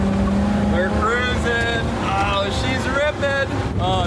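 An amphibious boat car runs its engine at full throttle on water, a loud, close, steady motor roar with whining rises, while a person speaks excitedly over it.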